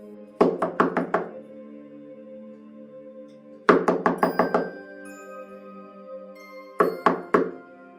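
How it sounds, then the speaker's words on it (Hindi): Three bursts of rapid knocks on a door, four or five raps each, separated by pauses; close, crisp and resonant, with no voices. "तभी किसी ने दरवाजा खटखटाया।"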